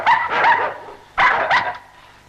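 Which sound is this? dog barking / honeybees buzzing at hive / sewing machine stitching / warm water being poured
dog barking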